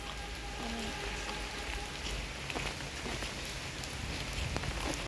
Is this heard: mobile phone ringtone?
no